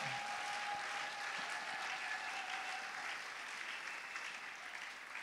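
A church congregation applauding and cheering in praise of the Lord, a steady, dense wash of clapping and acclaim from a crowd that holds throughout at moderate volume.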